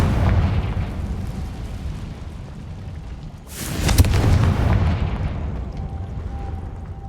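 A Confringo fire spell blasts in the Hogwarts Legacy video game: one loud, sudden explosive burst midway that rolls off into a rumbling tail over a steady low background drone.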